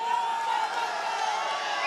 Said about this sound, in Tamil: ஆரவாரம் செய்கிறீர்கள்.